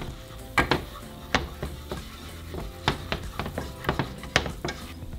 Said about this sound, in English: now we're going to add our flour and mix it with the butter